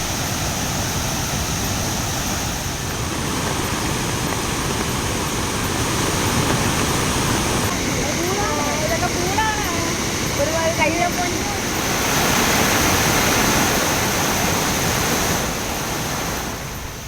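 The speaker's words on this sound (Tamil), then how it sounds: "குமரியில் பெய்யும் தொடர் மழையால் அருவிகளில் வெள்ளம் ஆர்ப்பரித்து கொட்டுகிறது." Thirparappu waterfall in Kanyakumari in flood after heavy continuous rain, a loud, steady broadband roar of rushing water that fills the whole stretch without pause, with speech faintly present under it.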